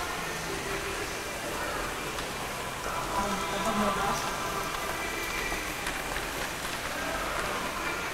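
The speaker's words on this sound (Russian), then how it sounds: "На улице даже слышно, как на улице дождик льет" Steady rain pours outside, heard from inside an IKEA store in Rostov-on-Don, a constant hiss of drops on surfaces, with a faint low rumble in the background.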